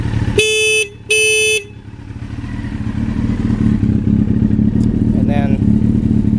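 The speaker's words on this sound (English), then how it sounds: "Horn." A 1995 Honda CBR900RR motorcycle horn sounds two loud, close, short blasts, followed by the bike's low engine rumble building steadily underneath.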